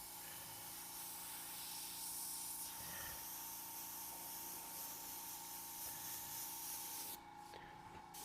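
An airbrush sprays paint in a light highlight pass, giving a soft, continuous airy hiss at fairly low level with slight fluctuations, which cuts off abruptly near the end and leaves a quieter background.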